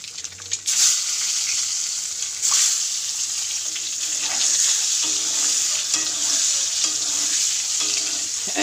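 Food being sautéed in a pan for a home-cooked meal, a continuous close sizzle broken by repeated scraping stirs and occasional clatter, with no voices.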